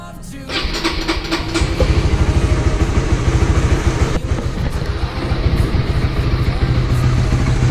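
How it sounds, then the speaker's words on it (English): A motorcycle engine starts and settles into a steady, loud, rumbling idle as it warms up, close by, with a sputtering throb continuing throughout and no talk over it. "It's time to turn our motor on. Just warm it up for 3 minutes or either 5 minutes."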